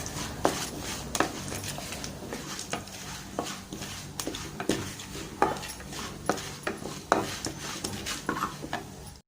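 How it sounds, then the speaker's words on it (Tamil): Cumin, chana dal and mustard seeds roasting in a pan for curry leaf thuvaiyal, stirred with repeated sharp metal scrapes and taps, a soft dry sizzle beneath, close and without talk. "ஜீரகம், கடலைப்பருப்பு, கடுகு இதெல்லாம் போட்டு பொன்னிறமாக வறுத்துக்கணும்."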